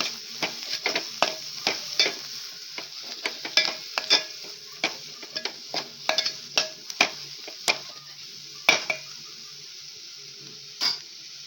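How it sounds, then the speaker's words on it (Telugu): A salted mixture of onions frying in a pan is stirred, giving sharp, irregular scraping clicks over a steady soft sizzle, close and fairly quiet. "1 టీ స్పూన్ ఉప్పు వేసుకొని"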